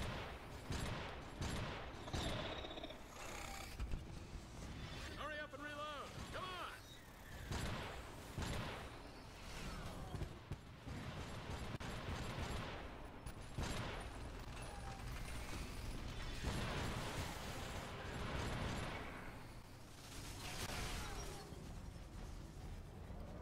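Sniper turret gunfire in the video game Iron Brigade during a horde-mode battle, with repeated mechanical shots and clanks in dense, busy bursts, loud and continuous across the scene.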